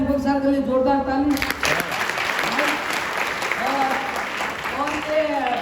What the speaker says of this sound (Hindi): दीपक सर के लिए जोरदार ताली